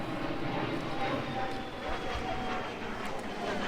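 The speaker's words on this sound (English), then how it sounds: "a plane going overhead" An airplane passes overhead at a beach shopping area, a steady distant engine roar that stays even throughout.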